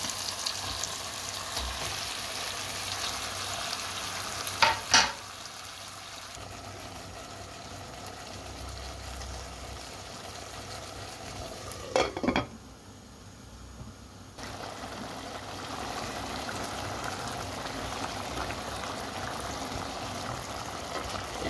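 Chicken pieces sizzle and fry in a pan with tomatoes that are already cooked, a steady crackling hiss broken by a couple of sharp clanks of stirring, with no voices.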